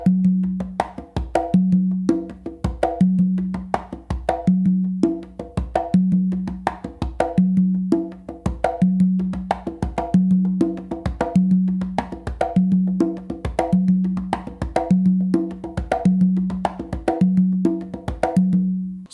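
Two congas play a repeating songo rhythm variation, steady open tones and slaps in a tight syncopated loop, close and loud with no talking.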